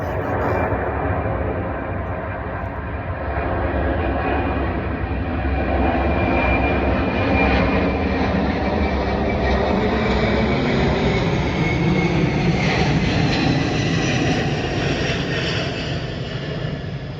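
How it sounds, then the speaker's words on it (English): An airplane flies overhead with a loud, sustained engine roar that swells and slowly shifts in pitch as it passes, filling the whole stretch with a steady rumble. "I'm gonna let the plane go by."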